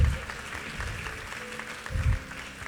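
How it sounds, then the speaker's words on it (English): Audience claps to welcome a debate team at a spiritual practices debate, a sustained round of applause at moderate volume with a few low thumps and faint room noise beneath. "please give them a warm applause"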